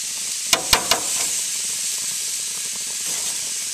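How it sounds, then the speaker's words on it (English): Shrimp sizzle on a hot grill for an instant ramen surf-and-turf dish, a steady bright hiss throughout with a few sharp crackling pops near the start. "That shrimp's cooking up."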